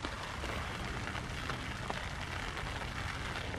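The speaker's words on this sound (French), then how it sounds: "puisque la pluie n'a pas l'air de vouloir s'arrêter de tomber" Steady rain falling outdoors during a Silky 170-8 folding saw test in the woods, a continuous even hiss of drops with no talking and no break in the patter.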